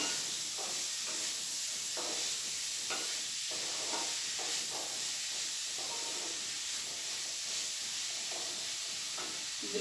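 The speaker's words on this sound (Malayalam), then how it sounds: "സവോള എണ്ണയുമായിട്ട് നന്നായിട്ട് ഇളക്കി യോജിപ്പിക്കണം." Sliced onions stirred in oil for a soybean curry give off a constant bright frying hiss, with soft repeated scraping strokes of a spoon through the pan.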